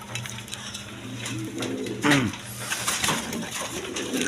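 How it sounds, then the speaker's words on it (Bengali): Coos from a pair of racer pigeons, a male and a female with stone-coloured eyes, sound close by in repeated low throaty phrases amid light background clatter. "দর্শকবিন্দু এখানে এক পেয়ার রেশার কবুতর আছে দেখেন"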